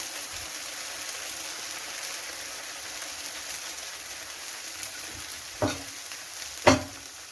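Rava dosa cooking on a hot pan over high flame, a steady soft sizzle throughout, broken near the end by two sharp clanks.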